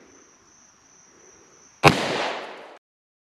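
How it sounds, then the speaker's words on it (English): A single sharp, loud gunshot of Buffalo Bore ammunition fired outdoors after a near-silent lead-in with a steady high insect-like tone, followed by a long decaying echo that cuts off about a second later. "This is the first time I have ever shot some Buffalo Bore ammo"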